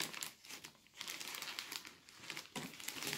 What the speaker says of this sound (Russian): Хочешь полностью пакет убрать сначала, да?